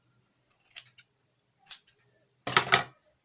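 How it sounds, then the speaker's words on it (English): Scissors snip through excess synthetic hair at the end of a passion twist, giving a few short crisp metallic cuts close by, a quiet pause, then a louder burst of snipping, with no talking. "And then I cut off the excess."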